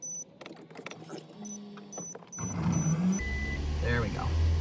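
The engine of a second-generation Toyota Prius with misfiring fuel injectors cranks and catches, then settles into a loud, uneven rough idle. Faint clicks and mechanical noises come before it.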